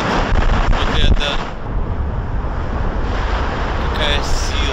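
Stormy ocean waves and gusting wind at the Lynn waterfront in the USA, a steady loud roar of surf with heavy wind buffeting the microphone throughout.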